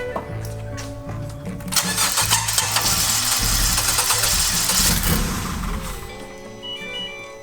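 A Honda Civic Si engine cranks and catches roughly with a misfire, sputtering unevenly before settling, with a loud rough stretch in the middle.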